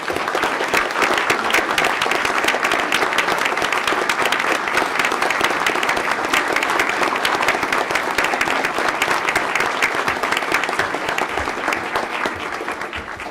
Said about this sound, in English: please stand for a huge round of applause